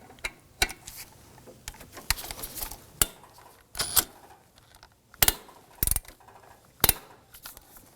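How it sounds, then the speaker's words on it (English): A ratchet with a shallow 12mm socket loosens a bolt on a 2005-2009 Subaru Legacy 2.5L H4, making close, irregular bursts of metallic clicking with short gaps between strokes. "Using a 12mm socket, want to loosen this bolt here."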